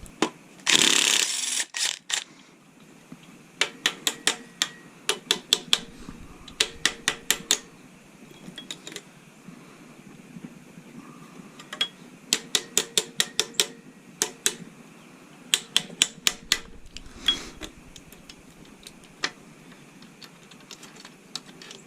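A ratchet tightens bearing cap bolts on a Small Block Chevy engine in a garage: repeated bursts of quick metallic clicks separated by pauses, close and fairly loud, with no talk over them.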